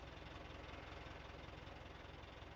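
A tractor engine in Farming Simulator 17 keeps running at idle, a faint, steady low rumble with a continuous throbbing hum and no voices.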